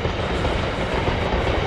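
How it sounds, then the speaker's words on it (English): A stone train rolling along a railway at a lime quarry near Buxton, Derbyshire, heard as a steady, continuous rumble with faint wheel clatter, loud and unbroken throughout. "So there's the sound of a stone train just running down there."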